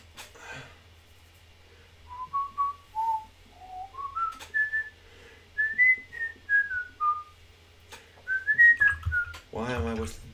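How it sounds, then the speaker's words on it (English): A person whistles a short melodic tune while painting miniatures, clear, close and unaccompanied, the phrases rising and falling with brief pauses, followed by breathy snorts and bumps. "Why am I whistling that tune?"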